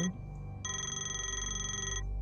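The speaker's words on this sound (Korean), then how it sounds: "전화 왔다." A telephone rings inside an escape room video game, a bright, rapidly trilling bell burst lasting over a second after a brief lull, set over a low steady background hum.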